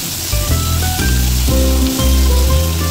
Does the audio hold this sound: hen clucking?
no